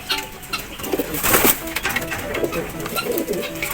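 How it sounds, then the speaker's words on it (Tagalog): Pigeons coo in a loft, low soft calls recurring through a steady rustling background, with faint voices now and then. "Parang mga bago nating kalapati ngayon ang tataba."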